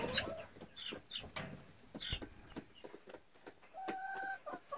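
Chickens cluck and squawk nearby in short bursts on a farm in a Canadian winter, with a brief high whistle-like tone near the end and light background noise.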